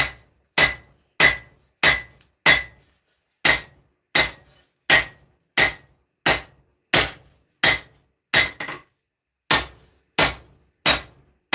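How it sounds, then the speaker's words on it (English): Hammer blows forging a hot steel sword blade, about fifteen sharp metallic strikes at a steady, even rhythm, each loud and ringing briefly before the next. "I'm going to get this nice and hot. We're going to continue forging and making this sword into something pretty awesome."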